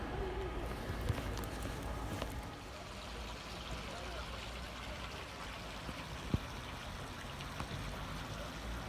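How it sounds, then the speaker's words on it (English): Floodwater from a river pours out of a road in Shrewsbury at night, a steady rushing, trickling flow heard nearby and continuously, with a few scattered thuds and faint voices in the background. "And that's the river, you can hear it coming out of the road."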